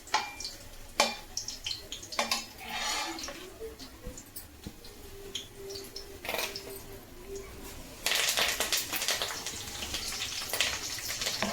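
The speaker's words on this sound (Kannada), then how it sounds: "ಸ್ವಲ್ಪ ಕಲರ್ ಚೇಂಜ್ ಆದರೆ ಅದರಲ್ಲೇ ಕರ್ಬೇವಿನ ಸೊಪ್ಪು ಹಾಕಿ" Garlic and curry leaves frying in oil for a garlic chicken dish, a soft sizzle with scattered stirring clicks and scrapes, growing into a louder, fuller sizzle near the end, close by and fairly quiet.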